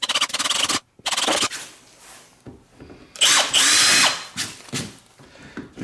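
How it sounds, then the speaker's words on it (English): A power drill whirs in loud, close bursts, stopping and restarting, with scraping as the bit bites into a kayak hull. "We're gonna drill the next hole."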